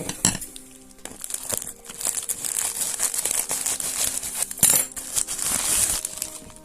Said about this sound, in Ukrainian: ось дві посилочки, зараз буду їх розпаковувати